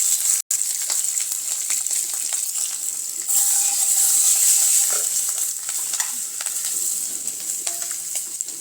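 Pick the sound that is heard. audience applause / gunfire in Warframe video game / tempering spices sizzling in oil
tempering spices sizzling in oil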